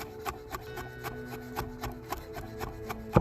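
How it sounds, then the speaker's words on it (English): A knife finely minces garlic cloves on a cutting board, giving quick, soft, regular chopping taps over a low background hum, with no talking. "I'm going to finely mince these 3 garlic cloves."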